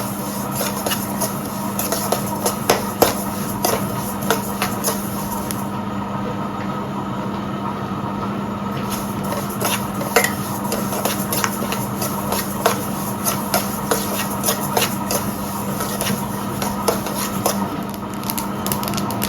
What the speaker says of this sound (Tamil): அதான் பொறிக்க ஆரம்பிக்குது. எள்ளு நல்ல வாசனை வருது.